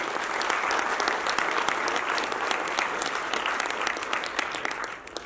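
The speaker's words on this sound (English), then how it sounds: "So big round of applause for them," An audience at a donor address gives a big round of applause for the USAID team, a thick, even wash of clapping that holds strongly before tapering off slightly at the end.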